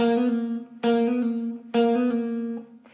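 Three repeated guitar note groups, each a sharp picked attack followed by smooth hammered and pulled pitch changes, played clearly and alone in a steady rhythm.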